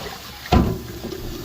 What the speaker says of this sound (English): I already have cleaned this pan, but just to be on the safe side, I'm just going to rinse it, give it another rinse.